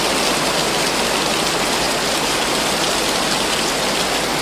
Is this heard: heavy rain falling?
yes